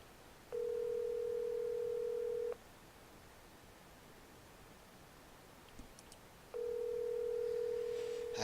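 A steady single-pitch telephone tone, heard while calling a character in the Doki Doki Literature Club video game, sounds twice: a two-second beep, a pause, then a second long beep. The line is otherwise faint and hissy.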